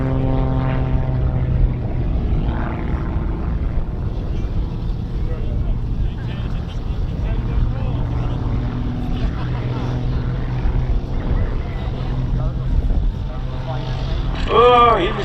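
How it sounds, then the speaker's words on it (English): A Bücker Jungmeister biplane flies aerobatics at a World War II weekend airshow, its propeller engine droning steadily at a distance over the full stretch, with people talking nearby throughout. "Jerry Wells is up there flying around, demonstrating the agility and maneuverability of the Bucher Youngmeister."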